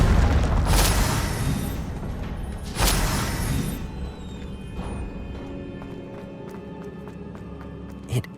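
An Incendio fire spell goes off in Hogwarts Legacy with a loud fiery whoosh and boom, followed by a second burst and rumbling flames that fade into quieter game sounds and footsteps.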